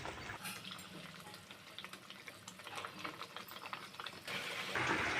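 Pre-boiled water poured into a simmering green banana kofta curry in a pan, a steady close splashing pour that runs for several seconds and grows louder toward the end.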